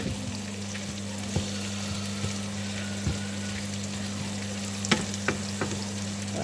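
Chopped onions sizzle steadily in a frying pan, a continuous hiss with a low hum beneath and scattered soft clicks and taps of stirring, close and moderately loud, without speech.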